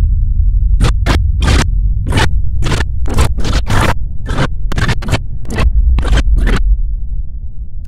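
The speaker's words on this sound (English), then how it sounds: "you would have heard 14 glitch sounds" Glitch sound effects made from sped-up songs form a rapid series of short, sharp bursts, about fourteen stuttering hits in irregular rhythm over a low steady rumble, loud and close with no talking.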